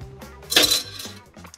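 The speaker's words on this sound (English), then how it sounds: "we'll stir it up with those ice cubes in my Boston glass" Ice cubes clink and rattle against a Boston glass as brandy is stirred, a cluster of close, bright clinks with a louder burst in the middle and lighter taps trailing off.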